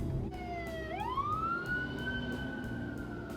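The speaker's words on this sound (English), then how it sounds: "And we got an ambulance coming now." A wailing ambulance siren sweeps upward and holds a steady high tone, heard from a distance while driving, with a low rumble of traffic beneath.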